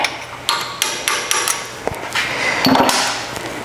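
Hammer blows strike a stuck front brake flange on a 100 Series Land Cruiser, sealed with silicone instead of a gasket, giving a series of sharp metallic knocks spaced irregularly, close and loud, with a clattering flurry near the end and no speech.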